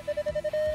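A telephone rings in a short burst of rapid electronic pulses followed by a sustained tone, clear and close in a quiet room.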